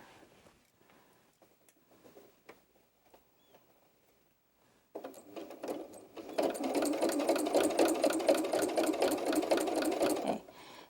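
A sewing machine stitches fabric for baby shoes, starting with scattered handling clicks and then running in a steady, loud, fast mechanical whir for several seconds before stopping.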